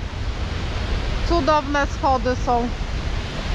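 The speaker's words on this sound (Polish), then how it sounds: "I Selja Landsfoss to jest ten wodospad, pod którym się tutaj przechodzi pod spodem." Seljalandsfoss waterfall in Iceland in winter gives a constant broad roaring rush that fills the background while a person speaks briefly over it.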